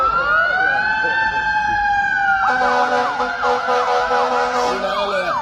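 An ambulance siren wails loud and close, first as a slow rising and falling tone and then as a fast repeating yelp that runs to the end.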